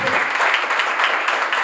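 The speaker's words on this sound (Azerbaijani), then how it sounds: "hamını ürəkdən alqışlayaq" An audience at a student business-advice gathering claps steadily and loudly throughout, a dense continuous round of applause with no talk over it.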